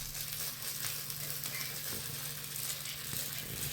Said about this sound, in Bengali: এইবার এটা আমি সুন্দর অল্প অল্প করে তাওয়ায় দিয়ে সুন্দর অমলেটের আকারে তৈরি করে নেব